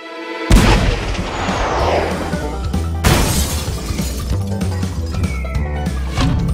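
A cartoon cannon fires a ping pong ball, two loud booming blasts with crashing, shattering tails that ring on, then a descending whistle as the ball flies, dense and noisy throughout.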